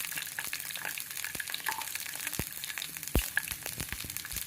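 Asafoetida, green chili, garlic and shallots fry in hot oil with a steady dense sizzle, broken by a few sharp clicks and bumps of stirring near the end, close and without any voices.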